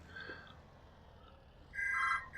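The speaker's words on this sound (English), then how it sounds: "And there goes the phone." A telephone rings indoors, faint and distant, with a short electronic ring near the start and a louder burst toward the end over quiet room noise.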